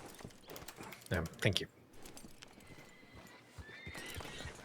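Horse hooves clip-clop in WildRP, a Red Dead roleplay, with a short whinny burst near the start and steady hoofbeats continuing; a voice speaks briefly over it.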